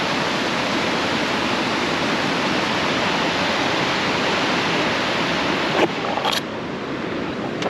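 Waterfall on the Three Falls trail in Alpine, Utah, a steady loud broadband rush of falling water that fills the whole clip, with a couple of brief clicks near the end and no talking.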